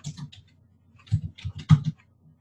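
Short bursts of typing on a computer keyboard: a few soft, close key clicks in uneven clusters with brief pauses between them.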